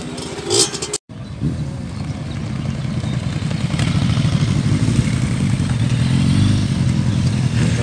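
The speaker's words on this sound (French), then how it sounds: "ça arrive à crevant. Un bon petit paquet de motos" A group of motorcycles arriving at Crevans on a motorcycle and moped ride, engines rumbling and building steadily louder and closer after a brief dropout.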